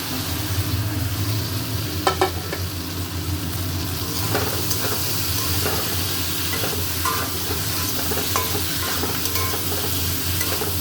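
Capsicum stir-fried in a pan gives a loud continuous sizzle up close, broken by scraping spatula strokes and occasional clacks against the metal, with no talking.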